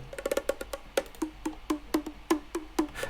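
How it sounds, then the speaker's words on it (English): A bongo-like hand percussion sample in a remix plays a quick, dry rhythmic pattern of short pitched hits, clear and fairly quiet, with no voice over it. "Actually, it sounds like a bongo, yeah."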